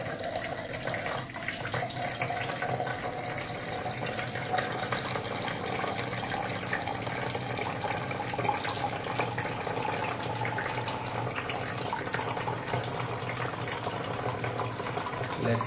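Water runs steadily from the spout of an alkaline water ionizer machine putting out 9.9 pH water, a continuous close gushing stream like a filling tap with no pauses and no talk.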